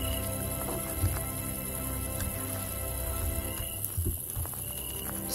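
Hooves clip-clop at a walking pace in the video game Animallica, soft irregular thuds over a constant game ambience with a faint tone, moderately quiet.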